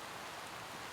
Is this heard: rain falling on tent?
yes